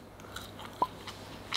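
Someone bites into and chews McDonald's fries, giving a few quiet, brief crunches spread over a soft background with no talk.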